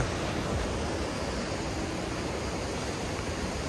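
Mountain river in the Pyrenees near Biescas rushing over rapids in rain, a steady broadband roar of churning water, continuous and fairly close, with no voices.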